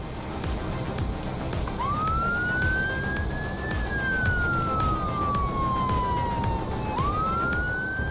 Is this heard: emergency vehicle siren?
yes